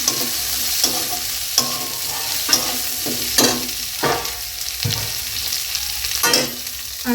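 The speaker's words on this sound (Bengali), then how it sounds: "পেঁয়াজটা রসুনটা ভালো করে ভাজবো" Close, steady sizzling of garlic and onion frying in a kadai, broken by about eight sharp scraping strokes of stirring at a loose rhythm, with no talking.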